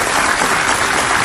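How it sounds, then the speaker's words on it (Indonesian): A TV studio audience on an Indonesian talk show applauds, a dense, loud, continuous burst of clapping filling the room without any voices. "Jadi kita kasih tepuk tangan dulu sekali lagi buat Kaila yang jauh banget."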